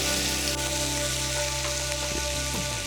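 Shallots sizzle in a hot pan for a mushroom sauce, a steady close frying hiss with faint crackles, no voices over it.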